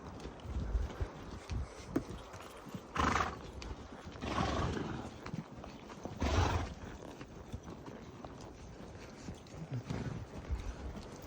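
Horse hooves clip-clopping on a wilderness pack trail at a walking pace, with a few louder snorts or breaths rising over the steady outdoor background.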